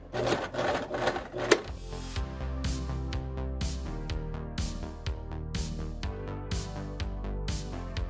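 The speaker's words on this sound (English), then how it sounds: "We are sewing the labels on." A sewing machine stitches labels onto screen-printed hoodies in quick bursts of rapid mechanical clatter. Short runs start and stop close by with no voices.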